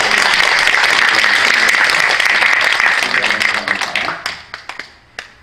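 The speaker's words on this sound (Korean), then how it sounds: "감사 박수 한번 드리십시다" A church assembly audience at a national women ministers' general meeting breaks into loud, dense applause of thanks that holds steady, then thins into scattered claps and fades out.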